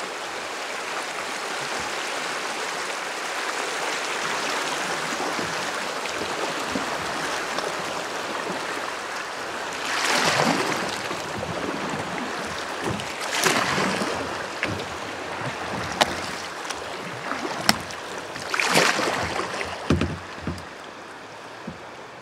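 A kayak moving through river rapids, with constant rushing water underneath and several distinct splashy paddle strokes and sloshes standing out in the second half, fairly close.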